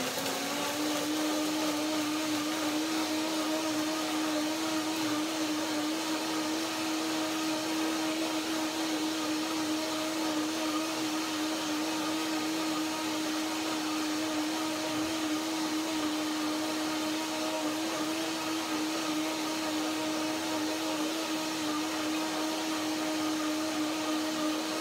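A home blender, not a high-powered model, runs steadily, blending a curry sesame cashew dressing with a constant whirring motor hum that stays loud and even throughout, with no talking.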